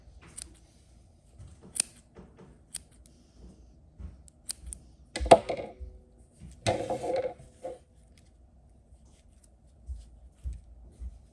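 Scissors snipping crochet yarn for a crochet flower, giving a few sharp, close clicks and short cutting sounds spread across quiet pauses.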